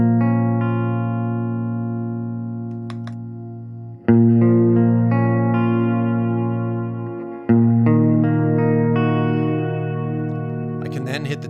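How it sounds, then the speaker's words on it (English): Guitar played through a spring reverb pedal preset, sustained chords ringing with a long shimmering decay, struck again twice so each new chord cuts into the fading tail. "When I first engage it, I'm getting only the reverb."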